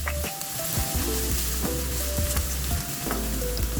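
Garlic and onion frying in oil in a pan, a continuous close sizzle with scraping stir strokes throughout and no talking.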